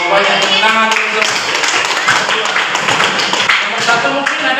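A classroom full of students claps hands together for a good answer, producing dense, continuous applause with some voices mixed in, loud and close throughout.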